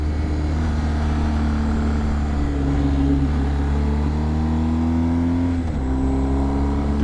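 A motorcycle engine on an open road pulling through second gear turns, a loud steady drone with rising and falling pitch as revs climb, dip with a gear change, then climb again.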